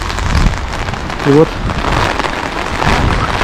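Steady rain falling in Lazarevskoye, Sochi, heard from a rooftop in strong wind, a dense continuous patter on the surface all around, with someone talking briefly over it.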